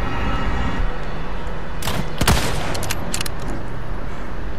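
Resident Evil 4 gameplay carries a brief cluster of sharp gunshots in the middle of a quiet stretch, loud and close against low ambient background noise.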